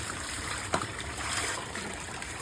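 Soft, steady trickle of cold spring water running with a faint hiss throughout, and one brief splash or drip near the start.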